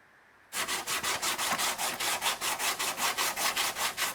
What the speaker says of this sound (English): I'm just adding a layer of filler, rubbing it down so I can paint it.